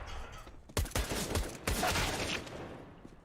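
Rapid pistol gunfire from a CS:GO esports match on the Train map, with bursts of sharp cracks and reports through the middle stretch, loud and close, over a busy game backdrop.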